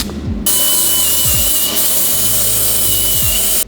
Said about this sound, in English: Most expensive drill I've ever used.